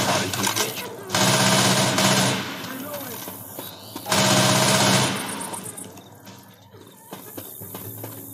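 Rapid automatic gunfire in Left 4 Dead 2 rattles in two sustained loud bursts, followed by scattered quieter shots and game noise, with voices talking intermittently.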